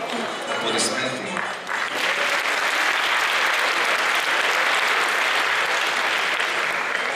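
Applause follows an award nomination announcement, starting with a brief stretch of voices and then swelling into loud, sustained clapping from an audience that carries on steadily to the end.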